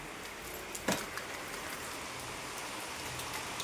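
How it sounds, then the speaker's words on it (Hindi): Steady rain falls on a surface during a heavy downpour with lightning about, a dense continuous hiss with one sharper knock early on and no voices. "बारिश रुकेगी, पर ये बारिश रुक नहीं रही है"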